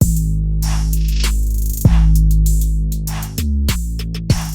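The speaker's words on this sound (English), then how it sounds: "Without the effects, the drum sounds like this." A dry electronic drum beat without effects, with punchy kicks, snappy hits and a sustained deep synth bass underneath, looping steadily with no voices.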